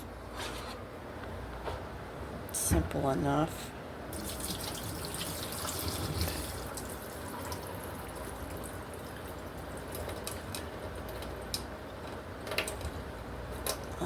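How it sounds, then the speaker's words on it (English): Water drained off a pot of soaked pinto beans, a steady running, splashing pour under a continuous watery hiss, with a brief louder gush near the start and a short spoken comment. "Drain the water off."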